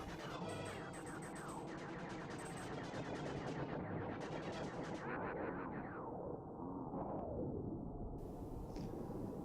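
Plasma blasts fired by the boss Andros in the SNES game Star Fox, dense rapid-fire zaps layered over busy game music and explosions, continuous and loud throughout.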